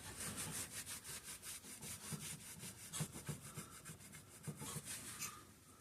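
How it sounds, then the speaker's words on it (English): Rapid rhythmic scrubbing strokes rasp against a part from a Homelite 330 chainsaw as sticky decal adhesive is worked off, a close, steady back-and-forth rubbing that tapers off at the end. "Now we're going to take off that sticky residue from that decal."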